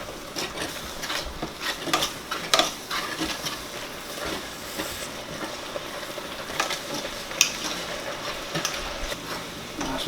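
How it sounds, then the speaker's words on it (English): Mashed potatoes with milk stirred around in a pot on a stovetop, soft irregular scraping and sloshing with occasional knocks of the utensil against the pot, close by over a low background hum. "Turn that down a little bit so I can just stir it around."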